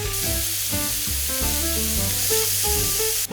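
Steak pieces sizzle loudly in a pan with a couple of tablespoons of olive oil, a dense continuous frying hiss close up, with faint musical tones running underneath.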